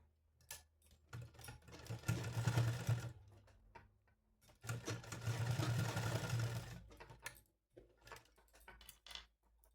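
A sewing machine stitches cloth for a seven-colour dress for a Laddu Gopal idol in two sustained whirring runs of a few seconds each, separated by quiet, with light clicks and handling noise around them.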